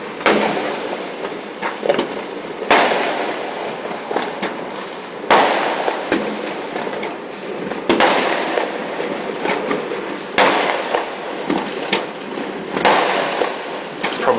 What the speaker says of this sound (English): There's just more firecrackers than fireworks, but then at night is when the fireworks come out.